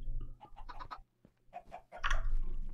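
Chickens in Minecraft cluck in short, choppy bursts close by, a few quick clucks followed by a pause and then a louder cluck, against a low background hum.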